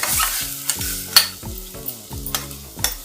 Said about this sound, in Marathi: टोमॅटो परतवत असताना यामध्ये थोडी कोथिंबीर घालायची चांगलं परतवायचं